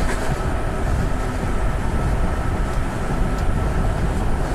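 A Garib Rath Express train runs steadily in Train Simulator Classic, giving a continuous loud rumble of wheels and engine with no breaks and no talk.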